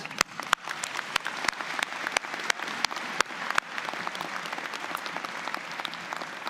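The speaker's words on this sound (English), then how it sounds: "let's clap for that" A convocation audience claps in a sustained round, with several sharp, close individual claps standing out above the softer crowd applause during the first half.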